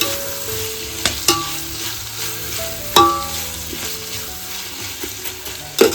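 Chopped onions frying in hot oil for a tempering while being stirred for chicken dum biryani, with a steady loud sizzle punctuated by several sharp clanks of the spoon against the pan.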